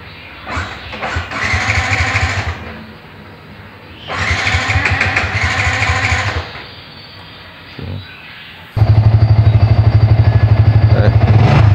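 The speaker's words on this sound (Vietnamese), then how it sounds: "Mình sẽ nổ máy cho anh em nghe thử ha" Up close, a Yamaha FZ150i motorcycle engine with 30,000 km cranks in two long bursts without catching, then fires up and settles into a loud, steady idle.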